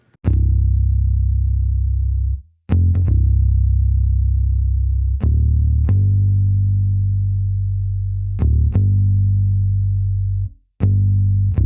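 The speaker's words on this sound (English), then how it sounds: "we basically just used the Scarby Rickenbacker bass" A Scarbee Rickenbacker bass plays a busy boom bap bass line in deep sustained notes with short gaps between phrases, loud and dry, alone without drums or voices.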